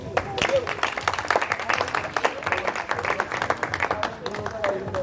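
Audience applause at a Lubumbashi anniversary event for a broadcast programme, a steady burst of clapping from a crowd with a voice speaking over it.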